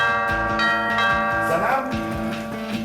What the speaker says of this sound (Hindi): साजिद के दरवाजे पर उसकी नई दोस्त अनम घंटी बजा रही थी